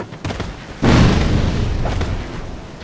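A bomb explodes in Dark Souls 2, a single loud close boom after a few light taps, decaying into a long rumbling tail.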